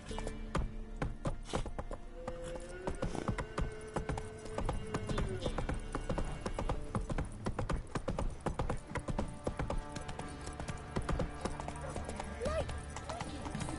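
Hooves of the horse Roach clip-clop steadily in The Witcher 3, walking on a hard surface under music and background sounds, with character voices talking over them.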